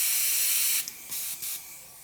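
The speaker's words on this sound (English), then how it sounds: "just pull straight back, see what kind of a big spray pattern we get." Iwata Neo airbrush spraying paint in a wide pattern, a loud steady hiss of air that cuts off, followed by two short sputtering bursts.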